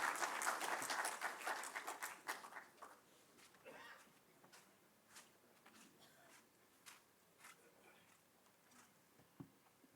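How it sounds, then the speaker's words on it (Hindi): A conference audience bursts into loud applause that tapers off within a few seconds, leaving only scattered, faint individual claps in a quiet hall. "जोरदार तालियों से हम उनका अभिनंदन स्वागत करते हैं"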